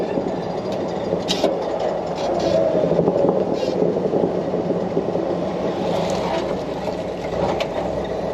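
A 1966 Ford F100 pickup truck on the move, its engine and road rumble a steady close drone with some rattling, and voices talking briefly over it.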